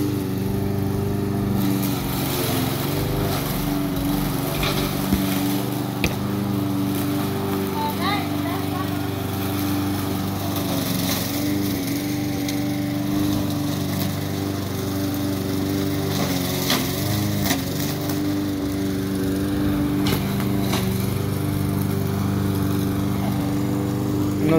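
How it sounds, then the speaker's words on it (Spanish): A lawn mower cuts grass in the United States with a steady, fairly loud engine drone that runs continuously, and faint voices may be mixed in beneath it. "muchas gracias a todos los que van a llegar a ver este video y cortando la grama"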